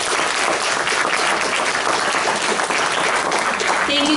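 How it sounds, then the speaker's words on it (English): A debate audience applauds as a panel is welcomed, a dense, loud and even burst of clapping filling the whole stretch without a break. "Please give him a hand of applause."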